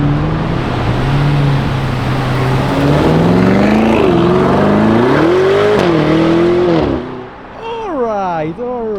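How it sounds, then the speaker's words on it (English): A black Lamborghini Huracan Performante roars past among traffic, its engine note rising and swelling loud and close before fading away, with people talking over it. "Here it goes, the black Performante."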